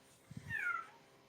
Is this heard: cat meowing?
yes